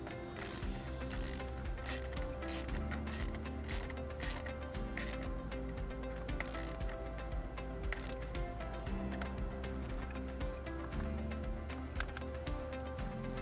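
A hand ratchet clicks steadily while tightening the nut on a car battery terminal of a 2014 Mazda3 during wiring harness installation, with rapid, close, regular clicks and short pauses throughout and no speech.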